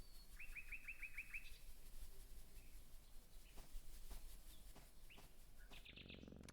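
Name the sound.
birds chirping and flying away in the video game Mutropolis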